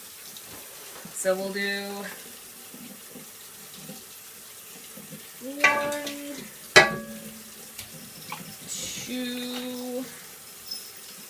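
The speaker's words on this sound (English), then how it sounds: "filling this pot halfway with our concentrated laundry detergent and halfway with hot water, which is why my faucet is running" A kitchen faucet runs hot water into a pot while making homemade laundry soap, a steady, soft hiss of flowing water throughout, with a person talking over it in short phrases.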